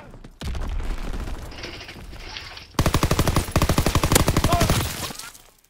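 In Call of Duty WW2 hardcore multiplayer, a gun fires several rapid bursts, loud and close, crackling in a fast even rhythm after a few seconds of muffled gameplay noise.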